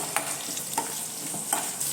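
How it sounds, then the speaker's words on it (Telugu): Garlic and thinly sliced onions fry in a pan, a steady close sizzle broken by a few brief stirring scrapes, with no voices. "వెల్లుల్లిపాయలు అలాగే సన్నగా కట్ చేసుకున్న ఆనియన్ ముక్కలు ఇవన్నీ బాగా వేయించుకోవాలండి"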